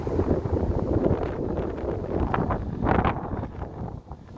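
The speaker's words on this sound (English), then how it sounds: "Okay, so the wind's come out." Wind buffets the microphone high on the glass bridge in Kyiv, a steady loud rushing roar with gusty swells and no speech.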